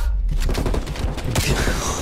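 Black Ops Cold War gunfire: a loud, close volley of rapid shots fills two seconds, with dense cracks and thuds crowding together after a brief gap at the start.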